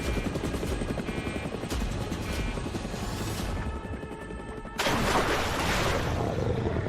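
A helicopter under fire in the video game Modern Combat 5 keeps up a loud, rapid rotor chop with bursts of gunfire and a sudden crash-like surge near the end.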